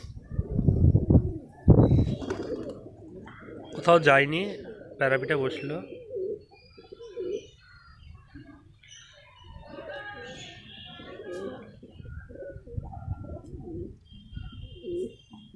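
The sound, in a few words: pigeons cooing after release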